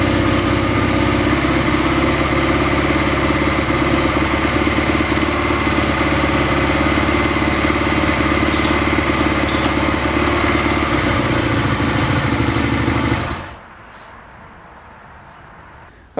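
A Honda Twinstar motorcycle engine, freshly carburetor-tuned, runs at a steady, even idle close by for about thirteen seconds, then cuts off abruptly, leaving faint background quiet.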